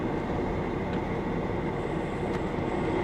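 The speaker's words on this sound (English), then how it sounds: "this thing sounds like a diesel" A Honda Civic Si engine idling with a diesel-like clatter, heard as a steady, unbroken rumbling drone with no talk over it.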